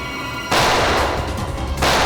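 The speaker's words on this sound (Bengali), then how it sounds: "সিআইডি অফিসারকে গুলি করে দিলি?" A burst of gunfire in a CID television crime drama erupts loudly, a dense rapid volley of shots lasting over a second, followed by a second blast at the end, with no speech over it.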